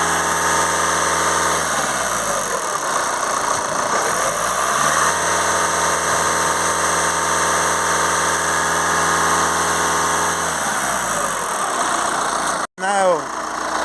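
A VW Transporter van's engine idles steadily up close with a constant low hum and faint vibration, the drone shifting slightly a couple of times before a brief clunk near the end.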